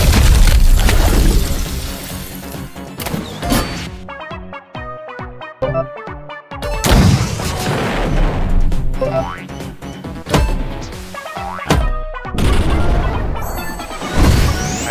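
Booming, crashing launcher blasts from an attack in the Roblox game Block Tales, heavy impacts and shattering hits stacked over game music, nearly continuous and loud with a few short drops.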